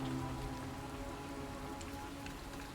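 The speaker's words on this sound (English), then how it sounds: "I'm going to do some harmful rain." Harmful rain area effect cast in the tactical roguelite Othercide, a steady soft patter of falling rain on surfaces, evenly sustained and fairly quiet.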